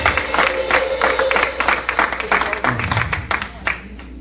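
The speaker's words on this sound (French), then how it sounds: "Acclamons un peu pour ce que Dieu a fait dans la vie de cette" Congregation clapping and cheering at a church service, a steady dense patter of hands filling the hall with voices mixed in, continuous and fairly loud throughout.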